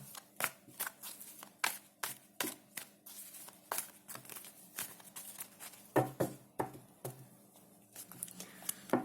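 Tarot cards being shuffled up close in quick, crisp riffles and slaps, repeated in irregular bursts with no talking.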